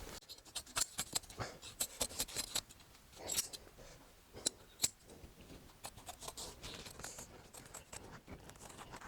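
Scissors trimming excess upholstery fabric from the inside back of a chair, a quiet close series of rapid snips and rustles, faint and without speech.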